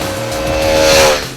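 A 2012 KTM Duke 200 motorcycle accelerates hard with a loud, close engine note that rises in pitch, swells to a peak and then eases off briefly. It is a single unbroken pass with no talking.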